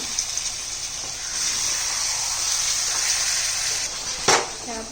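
Fish curry made with korameenu fish sizzles and bubbles in a pan as it is stirred, a steady hissing fry with a brief scraping clatter near the end.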